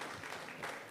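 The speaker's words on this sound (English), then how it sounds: "Let's give Tarush another big round of applause." A student conference audience claps for a young presenter, a brief dense burst of applause filling the room.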